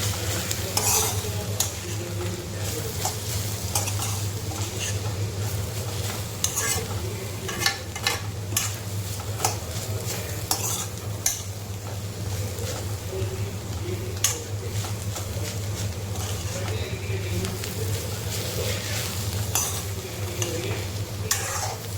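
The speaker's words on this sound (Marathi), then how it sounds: "त्याला परत असं परतून घेऊया थोडं" Chopped bitter gourd is stir-fried in a pan as a dry vegetable dish, with a steady close sizzle and frequent scraping stirs and clinks throughout.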